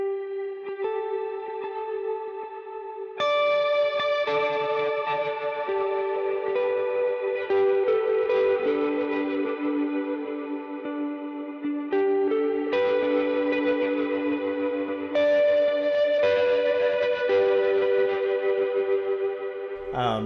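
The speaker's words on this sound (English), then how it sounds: "this is a tremolo reverb that I like to use" Sustained electric guitar lead line with a wobbling, pulsing tremolo and lush reverb tail, notes ringing into each other, played alone without voices.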